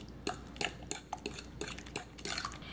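Spoon scraping and clinking in a bowl as mashed bananas are mixed with lightly beaten eggs for a no-mixer banana bread batter, a series of close, irregular metallic taps and stirring scrapes.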